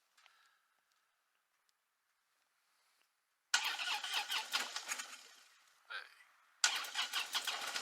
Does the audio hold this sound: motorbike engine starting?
yes